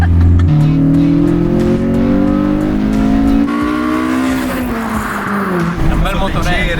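A Honda Civic engine revs loudly from inside the car with three people aboard, pitch climbing and falling through sustained acceleration, with voices talking over the drone.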